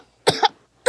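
A person coughs twice in quick succession, close and sharp, followed by the start of a third cough.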